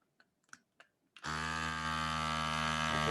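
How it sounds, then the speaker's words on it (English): A handheld vacuum sealer pumps air out of a mason jar of foraged mushrooms. A few light clicks and taps come first, then the motor starts with a sudden, loud, steady buzzing whine that holds close to the end. "it'll suck the air out of the jar"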